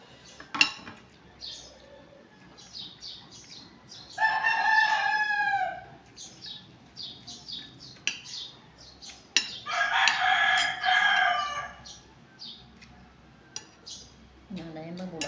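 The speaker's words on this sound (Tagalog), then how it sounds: "Manok na pula." A red rooster crows twice at a middle distance, each call a drawn-out strained cry, between faint clinks of dishes and cutlery and scattered quiet voices nearby.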